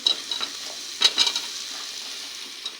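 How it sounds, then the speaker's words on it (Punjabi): Chopped vegetables for pav bhaji sizzle softly in a pan while a spoon stirs them, with a few close scraping and clinking strokes over a light frying hiss. "ਸਾਰੀਆਂ ਸਬਜ਼ੀਆਂ ਆਪਾਂ ਪਾਵਾਂਗੇ ਇਹਦੇ ਵਿੱਚ"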